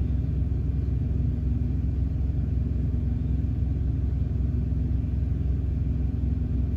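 A tractor-trailer truck reverses a trailer straight into a parking spot, its engine giving a steady low rumble and idle drone throughout, close and continuous with no talking.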